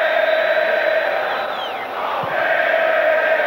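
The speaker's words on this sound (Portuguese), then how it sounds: "Parte da torcida aqui no Parque Antártica continua gritando o nome do time." A football crowd at Parque Antártica chanting the team's name, a steady distant roar of many voices that holds throughout with a brief dip in the middle.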